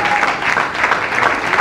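A live audience claps and cheers in a brief, steady burst of dense applause with a faint voice mixed in.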